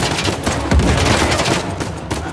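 Dense, loud gunfire rattles almost nonstop in a firefight in the game Uncharted: The Lost Legacy, rapid overlapping shots with a heavy boom partway through.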